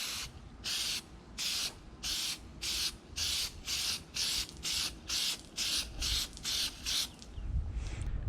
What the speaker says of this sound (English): So you want to just give it a nice spray.